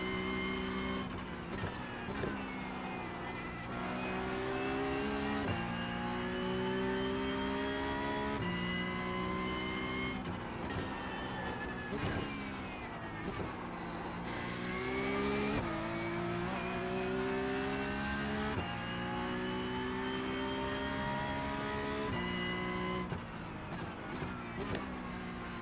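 Porsche Cup race car in the iRacing sim, its engine holding a steady loud drone with repeated rising rev sweeps and gear changes throughout.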